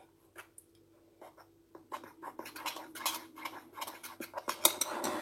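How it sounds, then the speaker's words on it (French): A spoon handle stirs homemade glue-free slime made with flour, giving soft sticky scraping and squelching strokes that start sparse and grow into a steady, busier rhythm close by, with no talking. "avec le manche d'une cuillère, vous mélangez tout ça"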